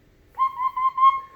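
An alto recorder plays a low, pure whistle-like tone that holds steady for about a second, close and clear against a quiet background.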